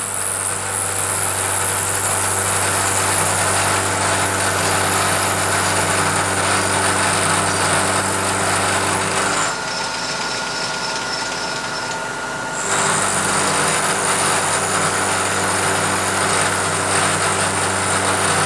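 A milling machine cuts a slot in a clamp-type knurling tool body, giving a steady, loud mechanical whine that drops quieter for a few seconds midway before resuming, with no talking.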